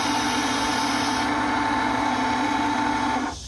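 Water softener control valve motor running during a regeneration cycle, a steady loud close-up electric hum that holds for about three seconds and then winds down as the motor quits.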